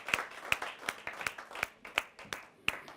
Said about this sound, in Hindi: तालियों से स्वागत करते हैं डॉक्टर पूनम वर्मा।